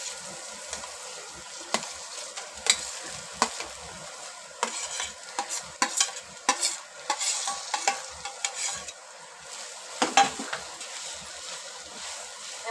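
Mashed potato is stirred into masala in a pan over low heat for aloo paratha filling, with a soft background sizzle and repeated scraping and clinking of a spoon against the pan.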